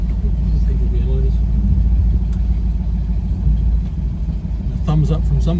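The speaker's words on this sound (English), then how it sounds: "give us a little rev" A Dodge Challenger T/A with a 340 engine rumbles with a deep, steady low idle, swelling briefly into a short rev near the end, while people talk over it.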